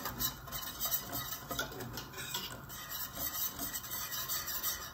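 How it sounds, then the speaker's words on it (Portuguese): A spoon stirs red bean queijada mixture in a pot, making a steady, close scraping and rasping that runs continuously without a break. "vai sempre mexendo até levantar a fervura"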